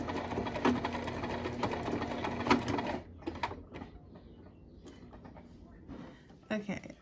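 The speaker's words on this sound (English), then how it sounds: "I'm back stitching a lot here since I will be cutting" A sewing machine back stitching a blouse seam runs loud and steady for about three seconds, then gives way to quieter handling noises and short bursts of stitching.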